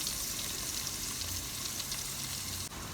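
Large onion, garlic and curry leaves sautéing in hot oil give a steady, close sizzle with a soft crackling hiss throughout, dipping briefly near the end.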